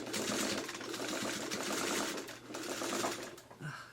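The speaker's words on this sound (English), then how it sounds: "So I'm just gonna quickly get in there and just sew down the base of those petals so that they stay in place" A sewing machine runs in quick continuous bursts, stitching down the base of quilt block petals, close and steady with brief slowdowns, no talking.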